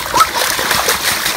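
Water splashes briefly as children play in water on a hot day, a short, fairly loud splatter close by.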